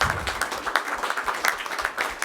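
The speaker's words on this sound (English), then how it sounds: "Round of applause." A room full of people giving a round of applause at a morning business meeting, quite faint and distant, with irregular claps forming a continuous patter for a couple of seconds.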